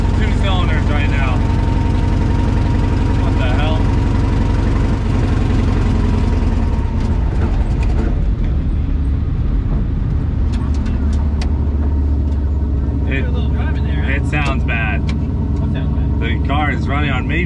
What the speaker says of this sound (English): We're running on about 2 cylinders right now.